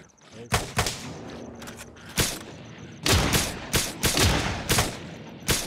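Gunfire in the survival game Miscreated: a string of loud, punchy shots lands at irregular intervals, then a quicker cluster of several rounds follows, with speech occasionally present between the bursts.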